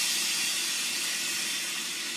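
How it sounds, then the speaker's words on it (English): The steam wand of a Breville Bambino espresso machine lets out a continuous, even hiss, close and alone with nothing else heard. "the steam keeps coming out"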